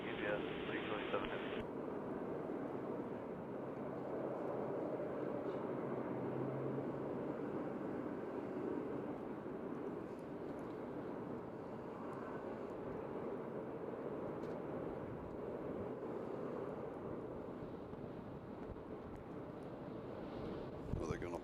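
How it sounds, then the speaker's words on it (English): A UPS Boeing 747 taxis out for takeoff at Louisville's UPS World Port, a steady, distant jet rumble that fills the scene, mixed with wind buffeting the microphone. "We got another queen coming out to take off"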